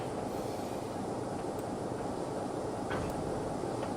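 A train rolls steadily in the Trainz Plus railway simulator on the Ducken Railway, a continuous loud rumble and rail noise from the cab with no talk over it.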